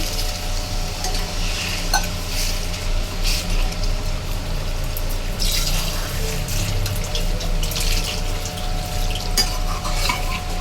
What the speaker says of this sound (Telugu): ఇప్పుడైతే పులుసుకి నేనైతే వాటర్ యాడ్ చేస్తున్నాను